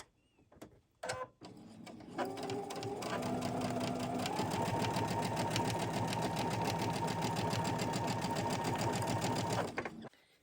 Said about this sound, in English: we're just going to chain stitch all of them